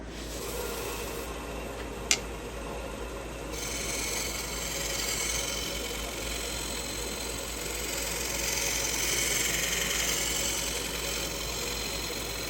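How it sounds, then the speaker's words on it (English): A wood lathe turns at very low speed while a bowl gouge rolls beads, giving a steady, even motor hum with faint scraping and a single sharp tick near the start. No one talks. "run the lathe really slow so it's easier to see what's going on mechanically"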